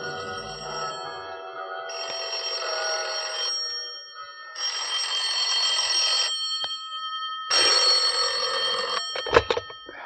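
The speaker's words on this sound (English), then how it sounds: "the bells started ringing in the Buddhist temple that had been built on top of the Mark Hopkins" Bells ring in a Buddhist temple built atop the Mark Hopkins, heard as four repeated bursts of bright, telephone-like ringing separated by short pauses, ending in a few sharp clicks.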